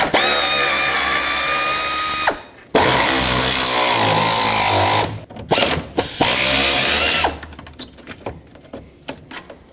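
A loud, close power tool whines in sustained bursts while removing bolts from the radiator fan of a 2009-2013 Honda Fit, cutting out twice, then trailing off into sparse clicks and clatter.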